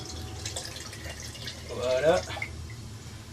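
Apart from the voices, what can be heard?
liquid fertilizer dripping from worm composter tap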